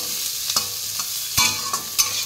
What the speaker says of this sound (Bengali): তেল গরম করে শুকনো লঙ্কা ফোড়ন দিয়ে দিলাম